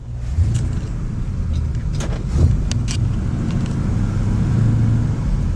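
A 1968 Camaro Z28 with a 4-speed manual is driven from inside the cabin, its engine droning loud and steady with low rumble, a few ticks and rattles, and a slight swell in revs partway through.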